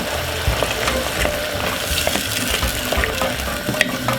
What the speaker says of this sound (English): just allow this for it to cook and simmer down